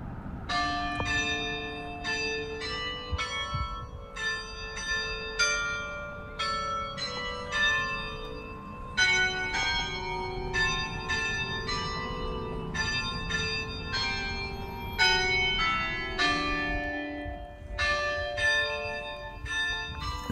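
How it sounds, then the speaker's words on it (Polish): The great bell tower of St. Nicholas church in Nyköping plays a hymn melody on its bells, a steady run of ringing, overlapping tones heard from a distance across the main town square. "z wielką dzwonnicą, z której 4 razy dziennie grane są pieśni religijne"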